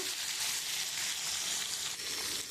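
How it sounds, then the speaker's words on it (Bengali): Potatoes fry in hot oil with a steady, dense, close sizzle that holds level throughout, with no pauses and no voices. "আমি আলুটা একটু লাল লাল করে ভেজে নেব।"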